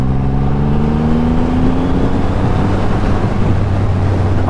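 A Triumph Rocket 3 R motorcycle accelerates, its engine note climbing steadily under heavy wind noise from the ride, loud and close throughout.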